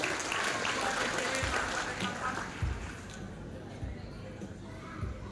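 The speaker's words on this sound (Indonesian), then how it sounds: "boleh sama-sama kita berikan tepuk tangan yang paling meriah Bapak Ibu" Audience applause at an inauguration ceremony for the board of a community association, a fairly loud, dense clapping wash that fades over the first few seconds, leaving scattered claps under low room noise.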